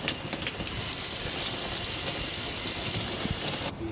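Water from an outdoor shower in the Sunken Forest on Fire Island Pines pours steadily as poison ivy is rinsed off legs, a close, continuous splashing hiss that stops abruptly at the end.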